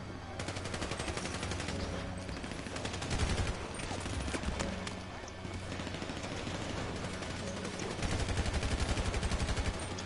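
Rapid automatic gunfire in GTA 5, dense and continuous for most of the stretch with steady fast bursts that briefly pause and resume, loud and close amid game noise, with faint voices underneath.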